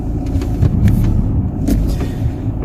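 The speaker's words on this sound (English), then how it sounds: "And there's another car coming and a learner driver." A car passes on a narrow road, a low rumbling engine and tyre noise swelling briefly nearby, with no speech over it.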